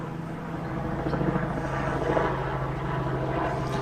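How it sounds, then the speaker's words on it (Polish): A rescue helicopter drones steadily overhead, a low continuous rotor rumble that holds for a few seconds without talk. "o, helikopter ratunkowy leci."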